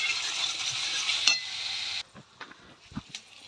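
Masala with chopped tomato gets stirred and fried in a pan, giving a steady sizzle for about two seconds. After that come a few soft scraping and tapping sounds.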